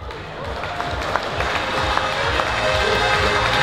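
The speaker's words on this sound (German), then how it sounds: "Applaus für Andi." An audience at a Gstanzl folk-singing contest in the Pielachtal applauds steadily, a dense wash of clapping filling the room for a few seconds.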